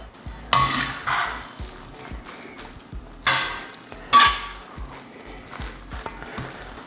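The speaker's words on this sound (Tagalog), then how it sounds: "tapos haluin lang natin ulit" Pancit bam-i noodles stirred in a pan over low heat, with a few sharp utensil clanks and scrapes against the metal at irregular intervals over soft background sizzle.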